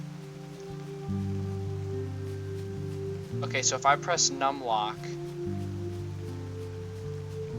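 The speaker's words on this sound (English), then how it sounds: "now it's raining" Steady rain patters in the game Eidolon, an even hiss under looping tonal music, while someone talks briefly partway through.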